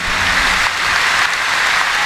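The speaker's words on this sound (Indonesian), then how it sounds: "Tepuk tangan sekali lagi buat beliau, Kiai Haji Anwar Zahid." Sustained applause from an audience at an Indonesian Islamic religious gathering, honouring a preacher after his sermon; steady, dense clapping fills the whole short stretch without speech.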